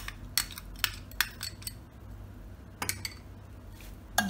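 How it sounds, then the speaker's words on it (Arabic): Spoon clinking against a bowl while mixing ketchup, vinegar, chili and garlic sauce, a series of sharp, fairly close metallic taps at irregular intervals over a quiet background. "نخلطهم هدول مع بعض"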